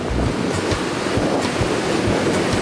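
Ocean surf rolling steadily onto a palm-lined sandy beach in India, a continuous broad wash of breaking waves with gusty wind buffeting the microphone, no voices.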